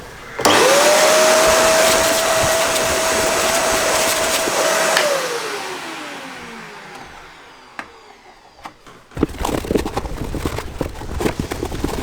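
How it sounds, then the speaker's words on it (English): A vacuum cleaner runs inside a car's air filter airbox on a VAG 3.0 TDI, a loud steady whine lasting about five seconds. It then winds down and the nozzle rattles and knocks around in the housing. "I'll give it a wipe out and I'll run the vac round in there."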